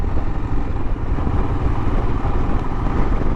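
A Royal Enfield Himalayan motorcycle with a 400cc engine runs loud and close during a test ride, a constant throbbing drone that holds steady throughout.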